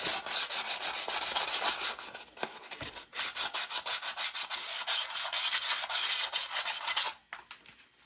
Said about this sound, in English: sand out the rear drum here a little bit of rust in there. I'm just gonna get some sandpaper and clean it out a bit.